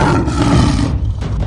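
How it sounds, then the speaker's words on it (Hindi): A loud cartoon tiger roar fills the clip, a deep sustained growl that holds strongly for about a second, then breaks into shorter rumbling bursts. "तभी वहाँ शेरा का दहाड़ने की आवाज आती है और सब डर जाते हैं।"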